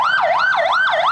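Ambulance siren wailing in a steady rising and falling cycle, about three sweeps in quick succession, loud and close with no talk over it.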